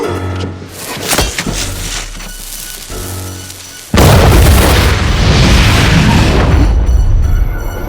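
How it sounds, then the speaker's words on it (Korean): Film explosion sound effect, a sudden loud boom that bursts in partway through and sustains a dense roaring rumble for several seconds after quieter ambient sounds. "멀지 않은 곳에서 폭발음을 듣게 된 에비와 케인"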